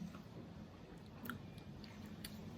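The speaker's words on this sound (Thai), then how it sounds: "แล้วก็เคี้ยวดูดน้ำ ดูดน้ำความ หวาน" Close, quiet wet chewing and sucking on stir-fried edible insects cooked in coconut milk, soft crunches and squishes under a steady background hiss.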